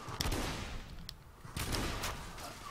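Rapid gunfire from an unusual gun in the video game The Order: 1886, a dense, booming fusillade of distant-sounding shots repeating in bursts with a rumbling tail.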